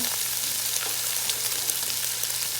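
Chopped leeks, white and green parts, sizzling in a soup pot with sausage, a steady bright hiss of frying with small crackles and a low hum beneath, no talking.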